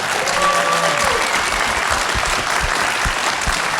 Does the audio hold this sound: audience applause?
yes